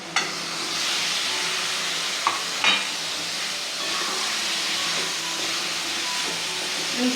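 Brinjal and potato sizzle steadily as they are stirred into frying masala for a wedding-style rassa curry, a close, continuous hiss with a couple of brief scraping clinks and no talk.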